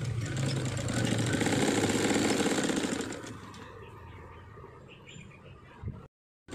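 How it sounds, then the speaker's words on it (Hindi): A sewing machine stitches a strip onto a blouse neckline, a loud steady mechanical whirr for about three seconds that then drops to quieter handling noise before cutting to silence. "तो इस तरह से हम इसको ऊपर रख के सीधी सीधी एक सिलाई निकाल देनी है।"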